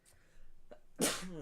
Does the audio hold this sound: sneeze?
yes